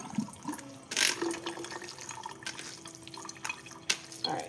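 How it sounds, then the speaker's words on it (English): Water trickles and drips steadily into a basin as it drains while making lasagna, with a few brief splashy bursts; fairly quiet and close, no talking. "so I'm just letting all of that water come out."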